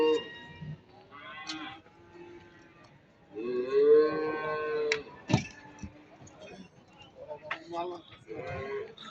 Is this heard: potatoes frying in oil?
no